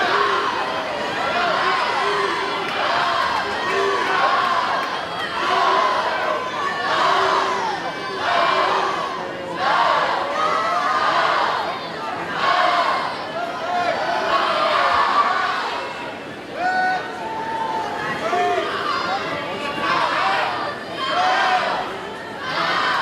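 Spectators at the Warsaw Swimming Invitational swimming meet cheer and shout in rolling waves during a breaststroke heat, a loud, sustained crowd roar with surging peaks and mingled voices.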